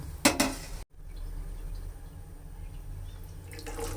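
Soaking water being strained off dried sidol fish in a kitchen: a couple of sharp metallic clinks from a pot or strainer, then a soft, steady trickle and drip close by.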